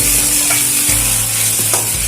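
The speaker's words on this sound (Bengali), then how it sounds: "মশলাটাকে একটু ভেজে নিচ্ছি।" A ground paste of green chilli, ginger, radhuni and cumin fries loudly in a pan, a close continuous sizzle broken by a few stirring scrapes.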